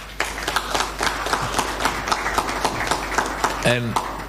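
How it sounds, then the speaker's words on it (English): Audience clapping hands at a CAF press conference in Dar es Salaam, a broad, sustained round of many hands with distinct sharp claps standing out, and a brief voice near the end. "Can we clap hands for them, please?"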